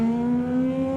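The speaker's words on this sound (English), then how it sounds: "that is the GT300 leader there, John, being beaten up on, I believe, by two other GT300 cars" GT300 race cars at Okayama in the rain produce a steady, loud engine drone with a strong tonal whine, holding constant through the short moment without speech.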